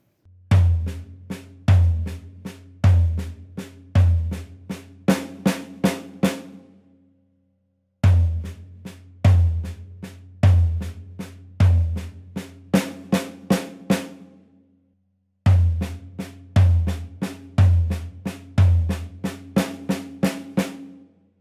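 A repeating drum fill played slowly three times: deep floor tom hits grouped in threes mixed with snare strokes, each pass ending in a pause.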